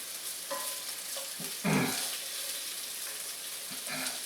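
Onions frying in a hot pan for spicy Mongolian beef, a steady close sizzle with occasional scraping and one louder burst of crackling as they are stirred.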